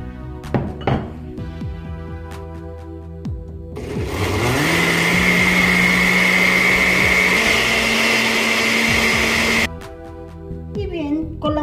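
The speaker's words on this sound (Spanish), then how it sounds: "vamos a licuar." A blender whirs steadily for about six seconds, loudly, as it blends purple cabbage with water, starting and stopping abruptly, with clinks and handling noises around it.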